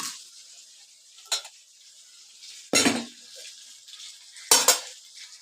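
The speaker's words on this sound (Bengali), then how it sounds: "এবার পেঁয়াজ কুচিটা আমি তেলে দিয়ে দিচ্ছি" Chopped onion hitting hot oil for a chicken and vegetable dish, a steady soft sizzle broken by three sharp bursts of clatter and hiss as the pieces are stirred and tossed in the pan.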